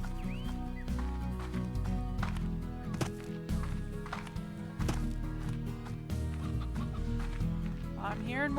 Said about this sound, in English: I'm hearing more chicken.